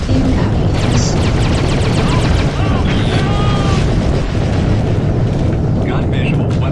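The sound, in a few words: missile explosions in space combat video game Freelancer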